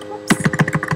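Quick keystrokes on a Mac computer keyboard, about eight close, crisp clicks tapped in a fast irregular burst after a short silence.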